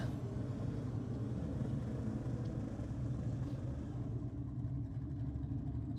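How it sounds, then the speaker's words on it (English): A little BMW does a burnout at a Sydney drag racing night, its engine a steady loud roar and low rumble that holds for the whole stretch without any break or distinct peaks. "Strong burnout from the little BMW down there in the rocket lane."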